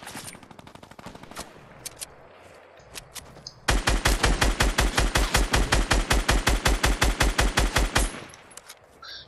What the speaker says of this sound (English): He sniped both of us at once!